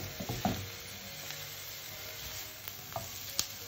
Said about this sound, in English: Cook until the onion are soft and tender.